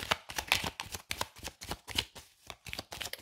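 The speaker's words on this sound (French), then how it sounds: "je vais prendre une carte du tarot" Tarot cards being handled and cut, a quick run of crisp papery slaps and riffles in an uneven rhythm, close and fairly quiet, with no voice.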